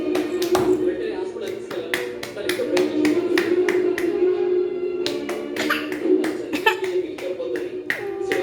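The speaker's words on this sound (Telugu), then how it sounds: "క్లాప్స్ కొట్టు క్లాప్స్ కొట్టు" Hands clapping in a series of sharp, distinct claps at a loose, uneven rhythm, close by, with pauses between bursts and a continuous tonal background underneath.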